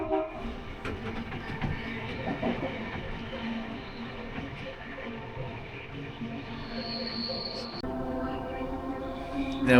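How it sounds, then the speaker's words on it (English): An Opal passenger train to the Blue Mountains rumbles along steadily from onboard, with wheel clatter, a rising whine partway through and faint voices beneath. "we're travelling on this train on a Friday"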